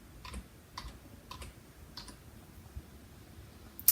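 Faint, close keystrokes on a computer keyboard come in a few soft, evenly spaced clicks as a word is typed, over a quiet room hum, with no talking.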